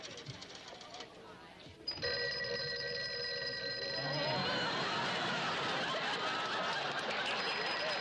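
A telephone bell rings loudly in a Jack Benny Thanksgiving TV comedy scene, with a burst of sustained electric ringing starting after a short pause and running under chatter and faint laughter.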